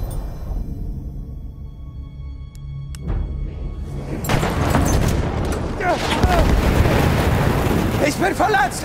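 Grenade blast in Battlefield 1 conquest combat in the Argonne Forest, a sudden loud explosion that erupts into sustained roaring debris and gunfire, with soldiers shouting amid the din.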